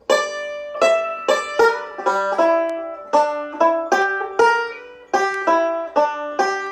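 Banjo plays a Scruggs-style up-the-neck backup lick, bright plucked notes in a steady rolling pattern of sharp attacks and quick decays, close and alone with no talk.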